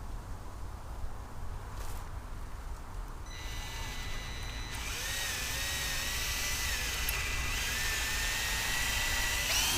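Power drill driving a screw into wood framing while building a coop, a steady whirring drone that rises and grows louder partway through and runs continuously to the end.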